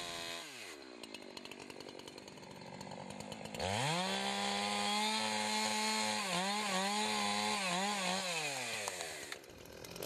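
A chainsaw starts a pie cut in wood: the engine idles unevenly, then revs up hard and holds a loud, close, sustained whine with wavering pitch as the bar bites into the wood, easing off near the end.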